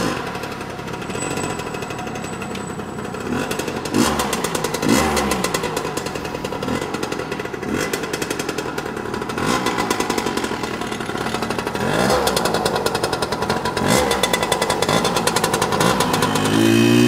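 A Yamaha PW80 dirt bike engine held at wide open throttle, a loud, raspy two-stroke buzz that runs continuously, with repeated surges and dips in pitch throughout.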